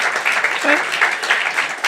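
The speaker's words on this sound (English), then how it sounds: "What a crowd. Thank you guys for being here. Applause." Audience applause at the POLITICO Speakeasy event at the GLOBSEC Forum, a dense, steady wash of clapping from a sizeable crowd that carries through the whole moment with small swells.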